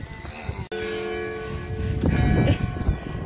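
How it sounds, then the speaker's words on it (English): Church bells ring with sustained, overlapping tones, fairly loud and steady, with a brief dropout near the start and some low rumbling underneath. "I'm not too sure about those church bells."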